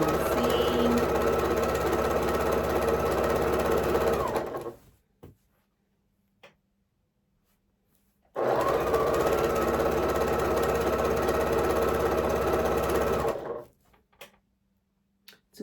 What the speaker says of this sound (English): I am sewing a 1/4 inch.